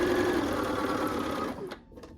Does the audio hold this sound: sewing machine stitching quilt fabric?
yes